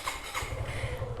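A 2026 Suzuki SF FI ABS motorcycle idles with a faint, low, steady engine rumble and light mechanical whine, heard briefly and at a distance.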